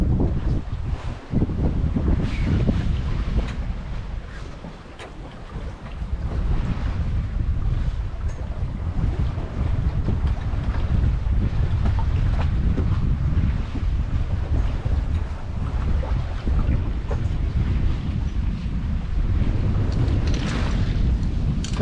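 A Garcia Exploration 45 sailboat moves under sail off Scotland in light wind, with steady water wash against the hull and heavy wind buffeting across the microphone throughout.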